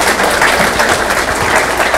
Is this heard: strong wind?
no